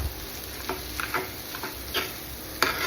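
Cooked potatoes and cauliflower mashed in a pan for aloo gobi, with soft, irregular scraping and tapping strokes over a faint, low sizzle.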